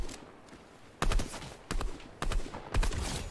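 Gunfire rings out in the Fortnite video game as several rapid bursts of shots, four distinct clusters in quick succession, loud and close after a quieter start.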